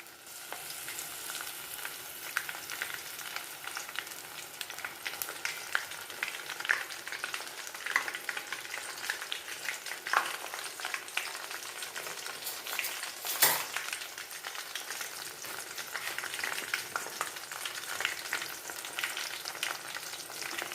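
Steady crackling sizzle of hibiscus flowers frying in hot oil, continuous and close, with no voices.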